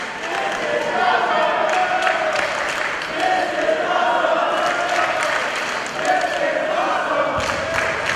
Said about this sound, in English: And this crowd loving every moment of this contest.